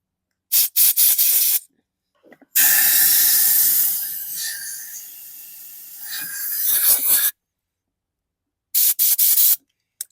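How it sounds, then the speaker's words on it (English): Compressed air blasts into the fuel tank of a 2019 Craftsman M100 lawn mower. Brief sputtering puffs come first, then one long, loud hiss that dips and swells, then a few short bursts. "blast some compressed air into the tank"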